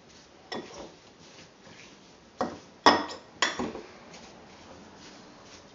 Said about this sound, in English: Place the bitter melon in a large bowl and add the salt.